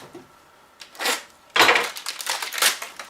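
A hard, crumbly cracker biscuit from a British 24-hour ration pack being snapped and broken close up, a quiet crack followed by a louder burst of dry crunching and crumbling.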